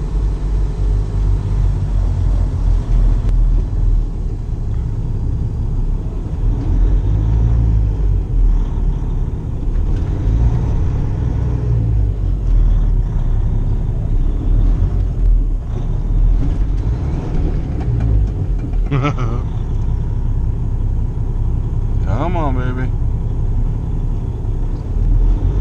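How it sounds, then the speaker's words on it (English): A truck stuck in snow at a shipper's loading dock, its engine rumbling loud and close in a steady low drone as the wheels spin for grip, without speech. "Dang, we're spinning."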